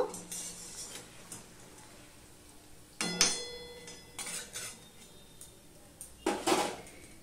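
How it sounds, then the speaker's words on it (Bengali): Fried langcha sweets lifted out of a pan of hot oil: a few sharp metallic clinks of a utensil against the pan ring out at scattered moments over a quiet, faint kitchen background. "দেখো বন্ধুরা ল্যাংচাগুলো ভাজা হয়ে গেছে, এইবার আমি তুলে নেব"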